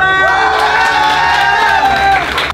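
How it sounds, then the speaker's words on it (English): Loud crowd cheering and whooping at a live Glasgow manhunt game event, with many excited voices rising together and holding steady before cutting off sharply near the end. "Can we get a round of applause for Heather?"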